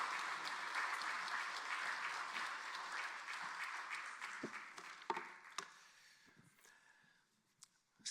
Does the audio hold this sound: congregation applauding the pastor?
yes